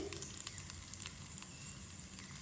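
Ingredients for a dried fish coconut chutney roasting in a pan, giving a faint, steady sizzle with light crackles and one small pop, with no talk.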